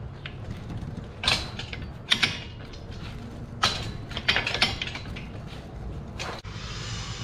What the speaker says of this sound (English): So I'm going to go for a 10-degree offset bend.